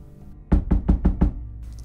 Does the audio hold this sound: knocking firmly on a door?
yes